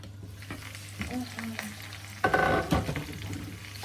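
Potatoes sizzle and crackle steadily in a hot pan, with a louder burst of scraping and stirring partway through.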